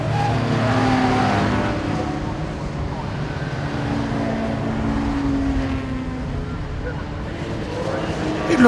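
Race cars drifting around bends on the Castle Combe circuit, including a Bristol Wingfield Special, give a continuous loud engine roar that rises and falls steadily throughout, with tyre and exhaust noise blending into a dense mechanical wash.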